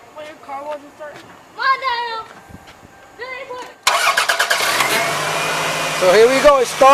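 A 1998 Toyota Camry engine cranks and catches, bursting loud and close into a running roar after a few seconds of people talking, then settling into a steady idle.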